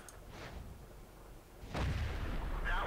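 A single heavy cannon shot from an AMX 50 120 tier 9 heavy tank in World of Tanks: one loud, deep boom partway through, followed by a sustained low rumble after a quieter stretch.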